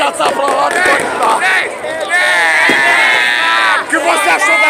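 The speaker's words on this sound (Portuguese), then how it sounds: "O pessoal feliz. Vou mostrar toda a festa. A torcida contente, ó." Palmeiras fans celebrating the championship at Palestra Itália, a loud crowd of cheering, shouting and chanting voices close to the microphone, with talk mixed into the din.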